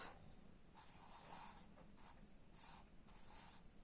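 A pencil writes on paper in faint, soft scratching strokes that come in short intermittent bursts against near silence.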